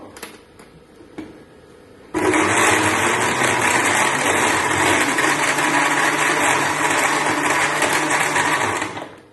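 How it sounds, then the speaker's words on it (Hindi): An electric blender whirs steadily for several seconds at full power while blending a mango milkshake made with water, starting abruptly after a few soft kitchen clicks and cutting off near the end. "और इसके बाद हम इसको करेंगे ब्लेंड, अच्छी तरीके से ब्लेंड कर लेंगे।"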